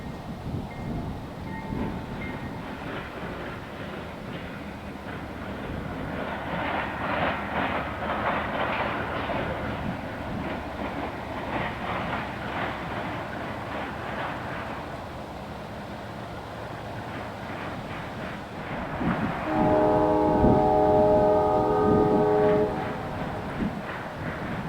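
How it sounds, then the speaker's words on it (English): An eastbound Chicago Fort Wayne and Eastern train led by GE Dash 8 locomotive 4037 rumbles past at Ivanhoe Junction with rolling wheel clatter, then sounds a loud, sustained multi-chime horn near the end. "the eastbound CF&E crosses the old J Main at Ivanhoe Junction"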